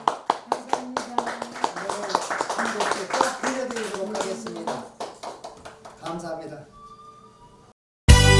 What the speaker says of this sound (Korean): 여러분 유다한 목사님을 위해서 여러분 박수 한번 해주시고